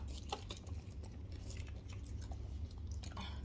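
Close, crisp chewing of crunchy Indian snacks, with a few sharp crunches standing out over low steady mouth noise.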